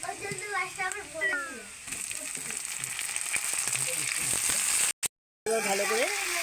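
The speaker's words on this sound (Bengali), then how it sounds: "ভাজা হয়ে গেছে এবার আলু দিয়ে দিচ্ছি" Potatoes frying in oil in a wok give a continuous close sizzle and crackle, with a voice talking over the start and end and a brief dropout near the end.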